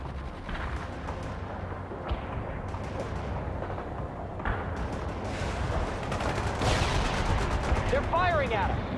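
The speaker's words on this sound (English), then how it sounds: "They're firing at us!" Enemy gunfire in a World in Conflict battle: heavy continuous shooting with sharp reports standing out now and then over a rumbling backdrop, growing slightly louder, and a voice calling out briefly near the end.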